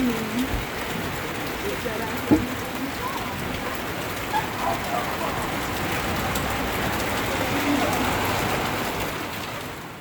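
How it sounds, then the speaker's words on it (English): Steady rain falls near the covered walkway of school portable classrooms, a dense, even patter on surfaces lasting throughout, with a few louder drops and knocks standing out. "a little bit of rain never hurt anybody"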